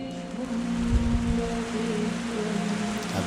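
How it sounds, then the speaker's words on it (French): Rain falling outside, a steady soft hiss of drops with a low hum running underneath, moderately quiet and continuous. "Avec l'arrivée en même temps de la pluie dehors."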